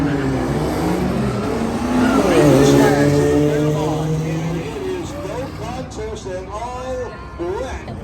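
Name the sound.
1933 Ford drag car with supercharged 2-liter four-cylinder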